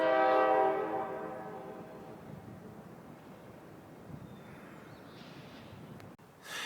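A train horn sounds loud and sustained at the start, then fades as rail noise rumbles on in the distance near a river where catfish are being fished.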